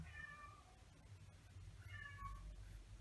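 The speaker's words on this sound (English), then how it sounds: "Here our kitty cat in the other room." A cat meows from another room, two faint drawn-out cries about two seconds apart over a low background hum, with no voices.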